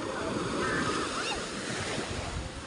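Ocean waves wash and churn continuously with steady broadband roar, wind buffeting the microphone throughout.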